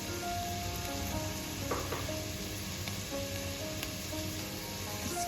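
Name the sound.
chicken frying and sizzling in a pan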